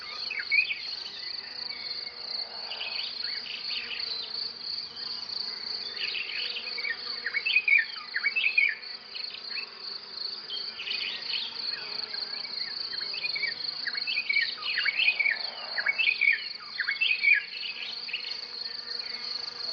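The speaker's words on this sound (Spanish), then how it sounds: "Hay tantísimos insectos" Crickets and other insects chirp continuously in dense, overlapping high trills, a steady nighttime chorus at moderate distance, pulsing slightly without any voices.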